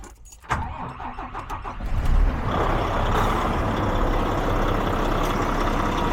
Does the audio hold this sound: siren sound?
no